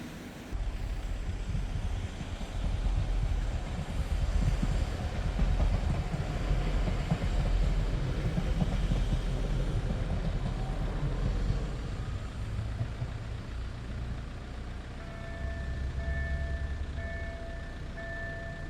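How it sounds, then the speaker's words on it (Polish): Steady low rumble of a Polregio regional passenger train from Hel to Gdynia, with rhythmic rail clatter and wind noise, heard from inside the carriage; a faint tonal whine appears near the end. "udało się trafić na pociąg Polregio z Helu do Gdyni"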